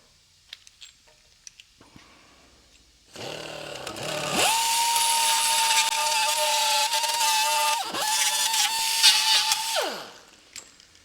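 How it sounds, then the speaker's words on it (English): A right angle grinder files rust and debris out of a car's brake pad slide track, giving a loud steady high whine that spins up, dips briefly midway and winds down, preceded by a few light clicks and handling knocks. "keeping this clean of rust and debris, we're going to file that out a bit"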